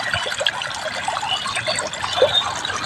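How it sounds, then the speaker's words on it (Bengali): Water flowing through a channel about a foot high, a faint, steady trickling and gurgling wash with small splashes, heard alone and from fairly close. "জলটা দেখো কত সুন্দর যাচ্ছে।"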